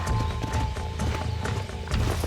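Horse hooves clip-clop steadily in the Red Dead Redemption western video game, with a brief whinny, loud and close, over a low rumbling game soundscape.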